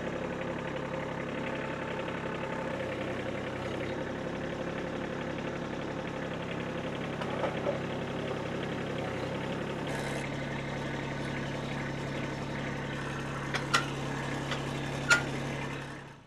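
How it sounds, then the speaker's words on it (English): A steady, low tractor engine idles on continuously with a constant rumbling hum, joined by a few brief metallic clicks near the end. "got the tractor out. Just gonna hook it up to the forks"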